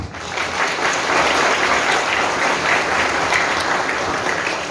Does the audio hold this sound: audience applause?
yes